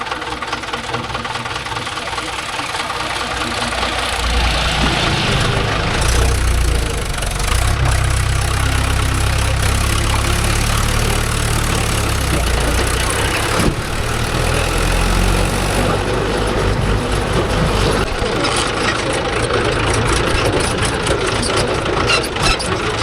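A JCB 3DX backhoe or Mahindra 575 / John Deere 5105 tractor engine runs steadily at an old home demolition site, a loud continuous diesel rumble with knocking and clatter throughout.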